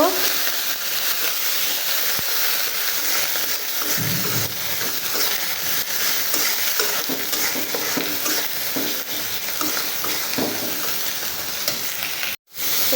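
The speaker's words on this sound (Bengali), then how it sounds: "লবণ দিয়ে একটু নাড়াচাড়া করে নেব" Dried loitta fish is fried and stirred with salt and chili in a pan, a loud, continuous close sizzle with spatula scraping throughout, briefly cut off near the end before resuming.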